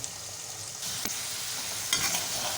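Potato fingers fry in hot oil in a pan, a steady close crackling sizzle with occasional stirring clinks and scrapes, no voices.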